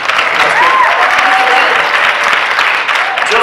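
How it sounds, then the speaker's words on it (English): Audience at a Dancing With Boulder Stars gala applauds steadily, a dense, loud wash of clapping filling the room from start to finish, with faint murmuring voices underneath. "you can clap for that"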